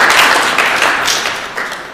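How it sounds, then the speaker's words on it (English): An audience at a morning conference session gives a round of applause for the volunteers, a loud burst of clapping that gradually tapers off. "can we just start out the day with a round of applause for our volunteers?"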